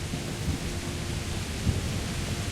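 Steady video game rain pours with low rumbling thunder underneath, a continuous dense wash of noise and no voices.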